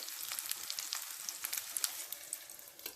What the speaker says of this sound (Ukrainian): Будемо смажити на невеличкому вогні, як звичайні гріночки обжарювати.